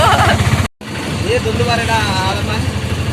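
An auto rickshaw engine putters steadily at close range while voices talk over it.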